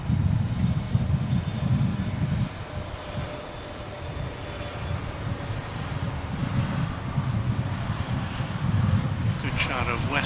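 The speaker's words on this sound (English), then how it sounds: "here comes the Frontier flight now" Frontier airliner arriving on final approach at DFW International Airport, a moderate engine rumble and wind-buffeted hum that swells and settles, with a brief hiss near the end.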